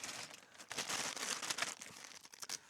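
Rummaging through a bag of spare keyboard parts such as space bars and a VIC-20 badge gives a continuous close crinkling and rustling of plastic, with small clicks, heard alone without speech.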